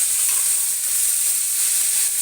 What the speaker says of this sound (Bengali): এই যে পাট শাকটা দিয়ে দেবো কড়াইয়ের মধ্যে